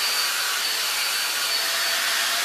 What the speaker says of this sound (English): My blow dryer has this little attachment on there as well, so helps to kind of detangle.